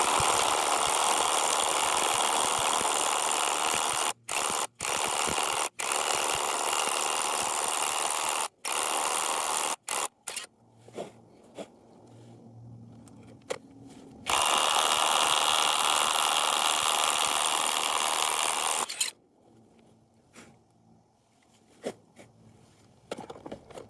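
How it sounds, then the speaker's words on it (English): A power drill bores into rock to remove a climbing wedge bolt, roaring loudly and steadily for about ten seconds with brief stops, going quiet, then grinding again in a second long burst before cutting out. "So I'm just going to drill down that far."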